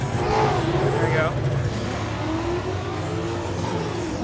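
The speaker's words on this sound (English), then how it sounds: "Fox body." A Fox body car drives past at an evening cars and coffee show at a raceway, its engine a steady broad rumble close by under loud crowd chatter and talk, with no clear rise or fade.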